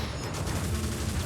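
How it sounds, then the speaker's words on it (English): Rapid, overlapping explosion bursts from the Snowflake ability in the video game Wizard of Legend, a dense crackling barrage filling the short moment with no pause. "Look at the explosions everywhere."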